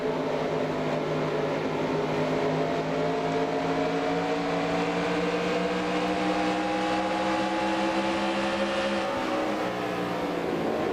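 Race cars roar continuously in the NASCAR Racing 2003 video game during a 1994 Busch Grand National race at Rockingham, several engines droning together with steady, shifting pitch tones, loud and sustained throughout.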